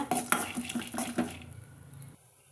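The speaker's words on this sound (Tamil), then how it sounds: "பச்சை வேர்க்கடலை தான் போட்டுக்கிறாங்க பொன்னிறமாக வறுத்தெடுத்துக்கிறாங்க" Raw peanuts are roasted in a pan to a golden colour, giving a quiet rattling clatter of nuts against the metal for about a second before fading to a soft low sizzle.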